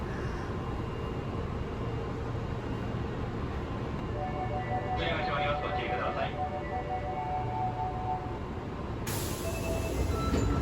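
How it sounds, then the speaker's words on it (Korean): A subway train carries passengers along, heard from inside the carriage as a steady, loud rumble of wheels and motor with a faint metallic whine and a brighter hiss near the end. "최대한 접촉하지 않은 상태로 지하철에 올라탔습니다"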